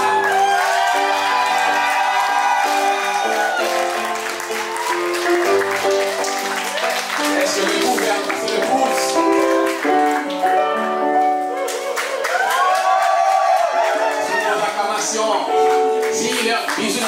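Wedding guests clapping and cheering steadily throughout, mixed with loud voices that sound like singing and music.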